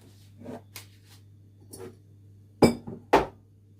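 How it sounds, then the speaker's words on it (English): A cake mixture is stirred in a bowl for a cupcake and chocolate layer cake bake. A spoon knocks the bowl in a few sparse, sharp clinks, the loudest two near the end, in a quiet room. "So we'll stir that whilst giving it time."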